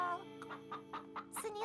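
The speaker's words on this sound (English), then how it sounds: "A chicken." A cartoon chicken in Littlest Pet Shop gives a short run of clucks in quick succession, ending in a higher squawk.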